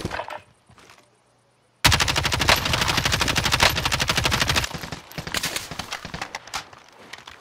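Rapid automatic gunfire bursts out in a Call of Duty Warzone firefight, starting abruptly after quiet and hammering loud and continuous for several seconds before breaking into scattered shots.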